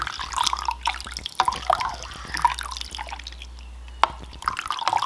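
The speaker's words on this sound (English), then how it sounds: "Put some vinegar in." Vinegar is poured into a cup, heard as irregular drips and small liquid splashes spread over several seconds against a faint low hum.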